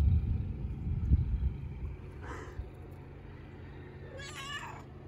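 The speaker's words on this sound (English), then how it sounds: "there's a kitty." A cat meows twice, faint and short, over low background rumble from traffic or an engine.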